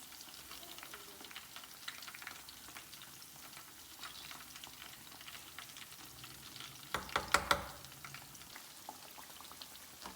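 Fish fries in a pan with a soft, continuous crackling sizzle and scattered pops, quiet and close. A brief burst of sharper clatter and spatter comes near the end, and there is no talk.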